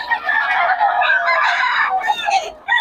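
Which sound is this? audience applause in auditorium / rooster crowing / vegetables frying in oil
rooster crowing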